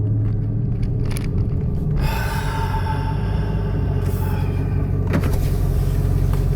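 Ford F-150 Raptor and Dodge Challenger Hellcat engines drive with a loud, continuous low rumble and roar, with scraping and clattering bursts over the top and no talking.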